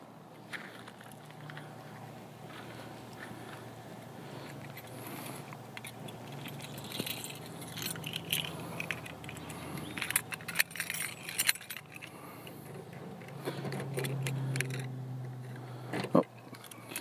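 Keys for a barn-find Chevy K5 Blazer jangle and rattle over a long stretch, with metallic clinks coming in irregular bursts at close range and some rustling and handling noise around them.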